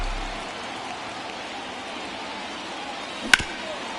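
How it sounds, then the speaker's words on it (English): Steady rain pours over a baseball game in MLB The Show 24 and makes a constant broadband hiss throughout, with one sharp crack near the end. "This rain is not letting up"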